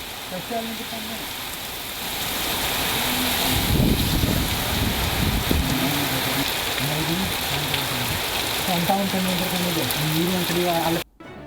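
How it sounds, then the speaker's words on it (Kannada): Heavy, torrential rain in Dharwad, with wind, roars as a dense, continuous wash for over ten seconds and swells louder midway, with wind buffeting the microphone; a voice talks over it. "ಧಾರವಾಡದಲ್ಲಿ ಈ ರೀತಿಯಾಗಿ ಇವತ್ತು ಇದ್ದಕ್ಕಿದ್ದಾಗೆ ಧಾರಾಕಾರ ಮಳೆಯಾಗಿದೆ."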